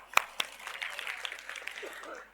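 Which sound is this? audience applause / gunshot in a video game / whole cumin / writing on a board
audience applause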